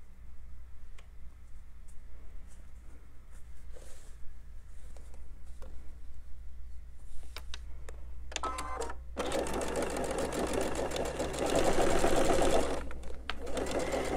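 A sewing machine stitches pieced pinwheel quilt patches, its motor humming with a fast rhythmic needle clatter that starts up midway and runs steadily close by, after quieter handling sounds at the start.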